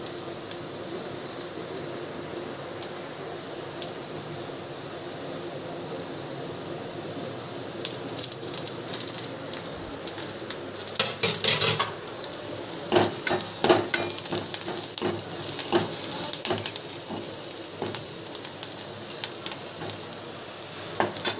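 Chopped onion frying in hot oil in a home kitchen, a steady close sizzle that grows busier partway through with sharper crackles and spatters, no talking.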